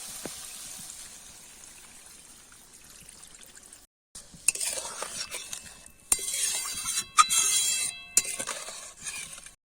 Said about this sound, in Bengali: জলটা দিয়ে দিচ্ছি অল্প পরিমাণ মতো।